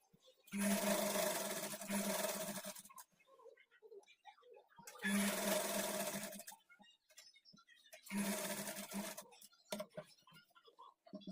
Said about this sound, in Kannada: ಕಡೆ ಸ್ಟಿಚ್ ಮಾಡ್ಕೊಳ್ಳೋವಾಗೂ ಈ ಲೈನಿಂಗನ್ನು ನೀಟಾಗಿ ಥರ ಸರಿ ಮಾಡ್ಕೊಂಡು ಸ್ಟಿಚ್ ಮಾಡ್ಕೊಳ್ಳಿ